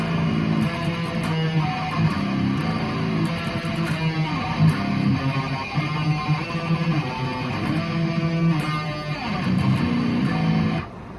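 A driving, distorted electric guitar riff plays loud and steady, repeating a chunky rhythmic pattern with no voices, then cuts off near the end.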